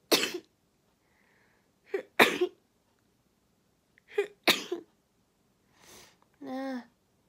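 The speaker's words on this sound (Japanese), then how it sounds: "ああ、くしゃみしそう。" A person sneezes several times in quick sets, each a sharp burst with a gasp before it, close and fairly loud in a quiet room, ending with a short voiced exhale.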